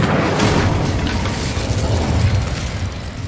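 Incendio fire spell cast in Hogwarts Legacy, a loud whooshing burst of flame that roars steadily throughout, dense and close with no voices.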